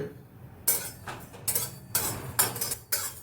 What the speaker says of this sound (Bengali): এটাকে আমি দিয়ে দেবো, দিয়ে শুকনো খোলায় ভেজে নেব।